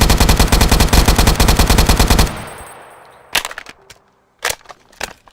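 A video-game AKM rifle in a Minecraft Bedrock mod fires a loud, rapid sustained automatic burst for about two seconds, then a few separate single shots ring out after a short decaying tail.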